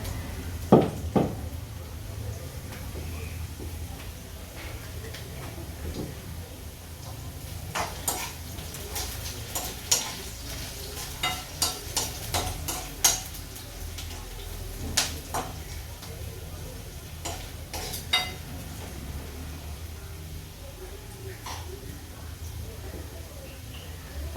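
Sautéed potatoes with sago and crushed peanuts stirred in a pan at home, with scattered spoon clinks and scrapes against the cookware while someone talks over the faint cooking sounds.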